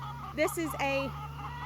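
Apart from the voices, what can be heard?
chickens clucking in a pen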